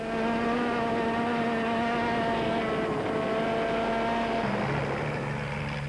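A peaky Porsche-engined Class BV Motors Epson Raceco race car racing across sand at high revs. The engine screams in a loud, sustained, buzzing howl that drops in pitch near the end as it passes.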